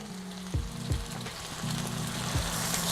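Sausage sizzles and fries steadily in hot bacon grease in a pan, a continuous crackling hiss with a few sharper pops and spatula scrapes, close and fairly loud, no talking.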